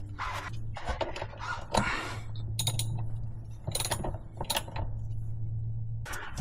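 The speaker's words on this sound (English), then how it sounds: "I'm gonna go ahead and put this 15 millimeter bolt back on the oil cooler" Metal clinks, light scrapes and jangling taps as a 15 mm bolt is threaded back onto the oil cooler of a Ram TRX during an oil change, intermittent close handling over a steady low hum.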